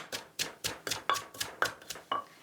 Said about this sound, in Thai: พริกแห้งจะตำไม่ยากนะคะ เพราะว่าเราตากแดดแล้วก็มันจะกรอบอยู่แล้วค่ะ